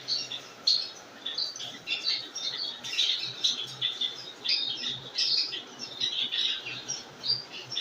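Gouldian finches in an indoor breeding room with clay pot nests give a steady stream of high, scratchy squawks and chirps, overlapping and continuous, moderately near, with no talking.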